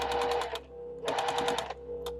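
A sewing machine stitching the corner of a quilt runs in two short bursts of rapid needle hammering with a brief pause between them, close and steady, followed by a quick final stitch.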